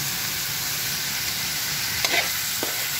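Ingredients for batsoy sauté in a pan with a constant close sizzle, punctuated near the end by a couple of scraping stirs of a utensil; no voices.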